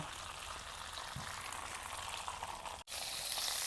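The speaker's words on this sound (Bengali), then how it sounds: "মাংস ভাজা তেলে আর অল্প তেল দিয়ে ফোড়ন দিয়ে দিব" Spices tempering in hot oil left from frying chicken, a steady soft sizzle with a brief stir knock, then a sharper louder hiss after a short break.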